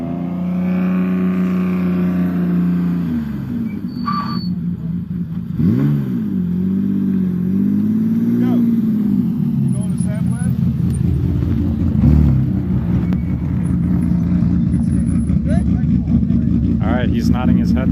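A rally car engine hums and revs as the vehicle drives and slows for a brake test, with brief high brake squeaks now and then and voices talking over it.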